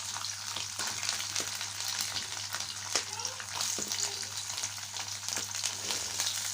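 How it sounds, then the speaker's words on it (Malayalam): Coconut pieces frying in coconut oil in a pan, a soft continuous sizzle with occasional stirring scrapes, fairly quiet and close, with someone speaking faintly at moments. "ഇതിലേക്ക് വെളിച്ചെണ്ണ ഒഴിച്ച് കൊടുക്കാമേ. ഇനി നമുക്കിതിലേക്ക് തേങ്ങാക്കൊത്തിട്ട് കൊടുക്കാവേ"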